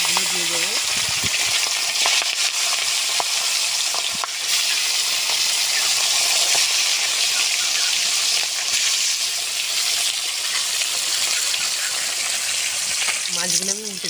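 Fish pieces, with the head set in the middle, frying in hot oil in a village kitchen, a dense, continuous close sizzle and crackle that holds loud and even, with a faint voice briefly at the start and end.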